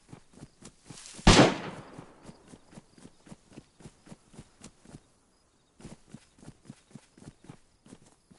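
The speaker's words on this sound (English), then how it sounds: "That's a repeater he's shooting there." A single loud repeater rifle gunshot cracks out in a DayZ match, set against a long run of steady, evenly paced footsteps that pause briefly and then carry on.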